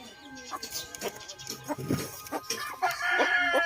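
Silkie chickens in a backyard coop cluck and call repeatedly at close range, with a rooster-like crow rising near the end over faint background noise.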